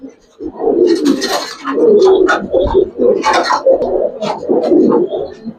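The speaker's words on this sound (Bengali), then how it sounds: "একটা মাদি কবুতর মাশাআল্লাহ।" Female Giribaz pigeon cooing in soft repeated low murmurs, close and fairly loud, with other birds calling and chirping around it throughout; speech-like sounds blend in.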